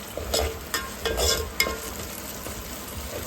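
Ginger garlic paste fries in a pan over browned ingredients, with a close, steady sizzle and a few quick stirring scrapes in a brief stretch.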